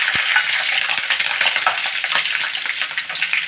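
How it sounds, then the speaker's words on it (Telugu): Green chillies hit hot oil in a pan for a prawn and okra curry, giving a loud, continuous crackling sizzle with scattered sharp pops and a few light utensil scrapes close by. "బాండ్లు పెట్టుకుని ఆయిల్ పెట్టానండి. ఇప్పుడు పచ్చిమిర్చి వేస్తున్నాను"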